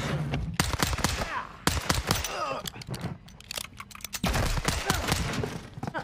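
Rapid bursts of gunfire from Modern Warfare 2 (2022) gameplay on Xbox Series X, with loud clustered shots in several volleys separated by brief gaps.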